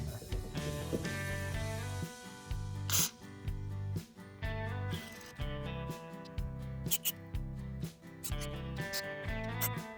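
Carburetor cleaner sprays onto a Craftsman weed wacker carburetor in a workshop, a steady hissing jet that stops and restarts in short bursts over a low background hum.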